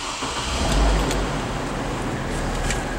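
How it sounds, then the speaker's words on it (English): A 2008 Hummer H3 starts up from inside the cabin, with a low engine swell rising at about one second and then settling into a steady idle rumble. "And let me turn on the vehicle."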